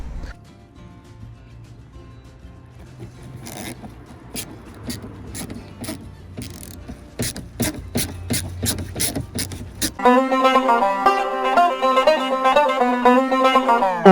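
Ratchet driver clicks rapidly and rhythmically while backing out a Torx screw from an old car's side mirror, growing louder, followed by a steady whirring motor-like tone near the end.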